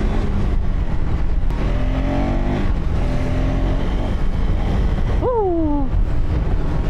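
A KTM 390 Adventure R motorcycle engine drones loudly and steadily on a bypass road, its pitch rising as it accelerates, with a brief rising whine near the end.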